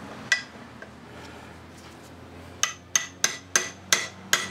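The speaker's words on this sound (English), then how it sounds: "I'm going to get my tappet hammer here." A tappet hammer strikes a part on a Tohatsu 18 HP outboard engine: one early tap, a pause, then five sharp metallic taps in a steady rhythm, close and loud.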